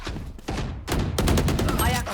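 Rifle fire in Valorant comes as rapid bursts of sharp shots, loud and close, in a dense volley toward the end, with players talking over it.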